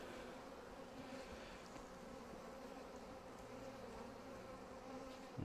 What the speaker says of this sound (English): I'm just blowing on the bees to move them.